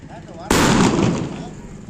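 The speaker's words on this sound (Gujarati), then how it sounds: "ફટાકીઓ ફૂટે મૂકો" A single sharp firecracker burst goes off close by at a wedding celebration, a sudden loud bang that decays over about a second.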